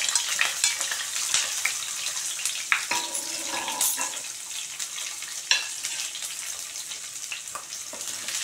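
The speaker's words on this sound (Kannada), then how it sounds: "ಈರುಳ್ಳಿ ಚೆನ್ನಾಗಿ ಫ್ರೈ ಆಗಬೇಕು" Onions, crushed garlic and curry leaves frying in a pan over medium flame, a steady close sizzle with occasional scraping stirs, no voices.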